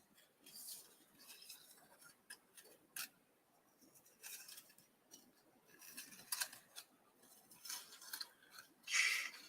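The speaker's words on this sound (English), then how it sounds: "a lot of fussy cutting today" Scissors snipping paper for a birds and butterflies craft, a close series of crisp irregular cuts and blade clicks in short bursts with quiet pauses between.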